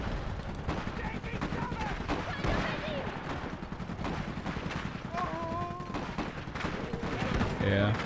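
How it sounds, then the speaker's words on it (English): Machine guns in the video game Iron Harvest chatter in steady sustained bursts, a loud unbroken rattle filling the scene with scattered in-game voices and effects layered on top. "Those machine guns are doing some work here."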